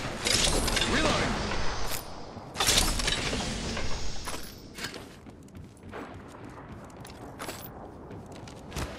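Weapon reloading in Apex Legends: close mechanical clicks and clacks of a magazine and action, with heavy impacts early on, then lighter scattered metallic ticks and handling noises.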